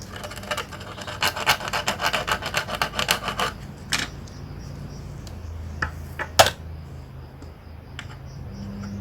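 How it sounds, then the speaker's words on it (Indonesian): Close, rapid scratchy rasping of sandpaper rubbing back and forth for a few seconds, then scattered clicks and light scrapes over a quiet background. "Saya coba amplas."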